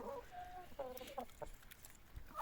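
Soft, close chicken clucks come in short bursts over a quiet outdoor background, with no talking, from chickens being vaccinated against Newcastle disease.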